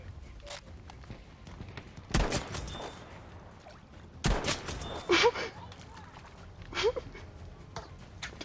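Two sharp, loud gunshots from a shooter game, spaced a couple of seconds apart, followed by softer clatter and a few faint in-game effects.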